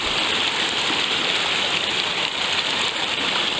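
A woodland brook flows in a steady, dense rush of water, close and fairly loud, with no break over a few seconds.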